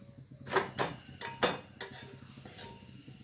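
Banana paratha frying in a little oil in a pan, with several short scraping and clinking strokes of a metal spatula over a faint sizzle, close and fairly quiet.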